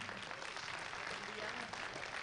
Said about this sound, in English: Big round of applause for Greg Simmons.